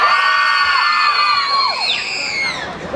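Women in a festival crowd at a bully dog show in Medellín scream and cheer together, a dense wash of high shrieks and whoops sustained loudly, with some sliding pitches.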